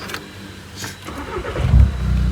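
Turbo diesel Skoda Laura with a custom Stage 5 turbo cranking and catching, a low engine rumble building and settling into a steady idle close by, with no talk over it.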